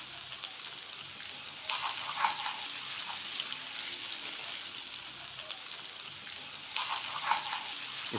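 Fried chicken sizzles as it is stirred into oil in a pan over medium flame for Chicken Manchurian, a soft, steady crackle with a few louder bursts of spitting and stirring.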